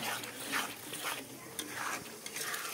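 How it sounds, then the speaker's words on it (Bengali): Spices frying in a pan for a fish and eggplant-potato dish give a steady, noisy sizzle with faint scraping stirs, close and fairly soft, with no one talking. "দেখতে থাকো, মশলাগুলো কষিয়ে নিই"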